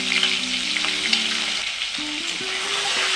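Boiled eggs seasoned with salt and turmeric fry lightly in hot oil, giving a steady, fairly loud sizzle and crackle throughout, with faint tonal background sounds and no talk.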